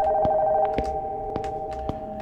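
Old-style telephone ringing in a deserted house in the horror game Nocturnal Visit, a steady electronic bell tone with repeated sharp clicks over a low background hum, alone and fairly clear.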